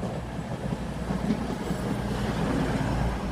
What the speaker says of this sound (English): Now about to arrive on platform number 3 at Leicester.